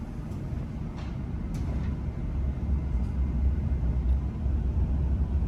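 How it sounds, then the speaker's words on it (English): Steady low rumble of a South Western Railway Class 701 Arterio electric passenger train departing London Waterloo, with faint mechanical whines and clicks above a constant drone, heard from inside the carriage. "We are departing Waterloo on time."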